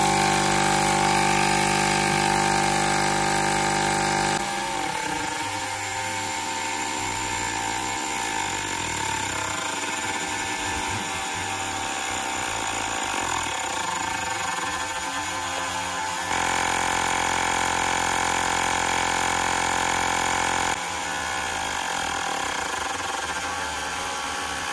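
A Fanttik X8 portable tire pump inflating a tire to 35 PSI, its motor buzzing and droning steadily at close range, with the pitch shifting in several distinct stages as it runs.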